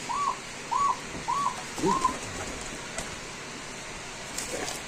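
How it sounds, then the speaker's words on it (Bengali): A grizzle pigeon coos four times in a steady rhythm, soft and fairly close, over faint outdoor background noise. "এখানে আছে একদম খুব সুন্দর গ্রিজেল কবুতর"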